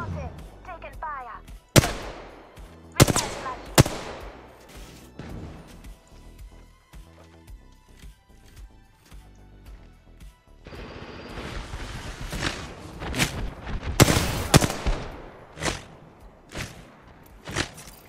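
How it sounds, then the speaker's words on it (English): Video game gunfire comes in sharp, loud bursts and single cracks scattered across a busy firefight, with impacts and thuds between volleys and a player's voice talking at times. "I'm spotted. Taking fire."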